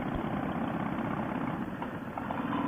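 A 2005 Harley Davidson CVO Fatboy engine rumbles steadily while riding, a loud, dense, continuous low throb with no pauses and no talking.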